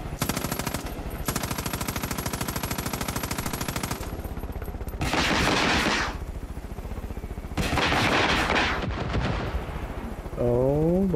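Rocket launcher fire in Far Cry New Dawn, a dense run of loud, rapid repeated blasts followed by broader bursts of explosive roar, with a brief rising tonal sweep near the end.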